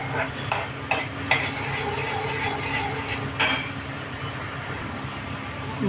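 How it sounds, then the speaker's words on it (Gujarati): A spoon stirring milk with ghee, grated coconut and sugar candy in a pan on a hot gas stove for coconut mysore pak: continuous close scraping and swishing, with a few sharp clinks of metal against the pan early on. "ઘી, ખોપરાનું ખમણ અને મિશ્રી જે પધરાવેલી એને મેં 10 મિનિટ સુધી એક સરખું હલાવતી રહી છું"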